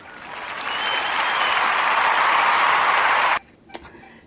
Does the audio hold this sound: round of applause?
yes